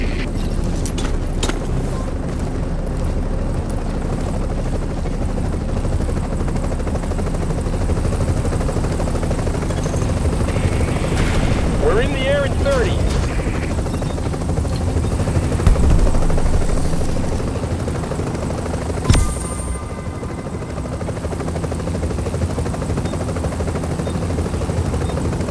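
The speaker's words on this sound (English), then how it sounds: "Okay, we're putting the chopper down." A helicopter comes down to land in the video game Tom Clancy's The Division, its rotor roar loud and constant throughout, with a few sharp impacts and brief mechanical sounds partway through.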